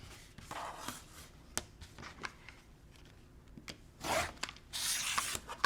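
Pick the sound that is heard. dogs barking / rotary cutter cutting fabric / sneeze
rotary cutter cutting fabric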